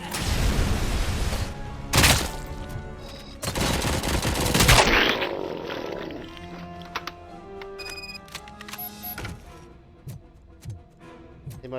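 Rapid machine-gun bursts with heavy, compressed game-style impacts in RoboCop: Rogue City dominate the first half, then sparse clicks and electronic tones follow.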